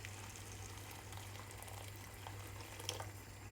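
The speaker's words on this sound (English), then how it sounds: "Cover with hot water." Hot water poured over beef mince, carrots and bay leaves in a pot for shepherd's pie gives a faint, continuous liquid rush with a low steady hum behind it and no speech.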